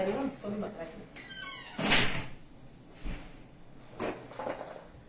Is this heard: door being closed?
yes